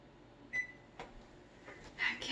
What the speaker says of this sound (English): Let's get this oven turned off.